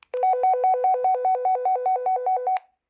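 Walkie-talkie call tone: a loud, near electronic melody alternating two pitches in quick regular pulses for about two and a half seconds, then cut off, with no talk.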